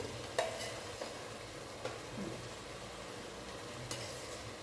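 Ghee hitting hot rice in a pan while cooking mint pulao, giving a soft, steady sizzle with occasional light stirring clicks, fairly quiet and close, no talking.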